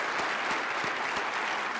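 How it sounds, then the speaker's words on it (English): Conference audience at an opening keynote gives a quick round of applause, a steady wash of distant clapping heard alone and fairly faint. "So if we could just get a quick round of applause again for Connie, I'd appreciate that."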